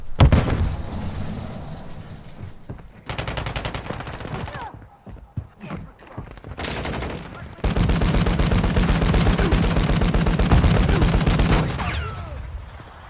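Intense gunfire in the mobile shooter Warzone Mobile: rapid automatic bursts, single shots and blasts, a short gap with scattered pops and a stun grenade, then a long sustained burst of loud close fire.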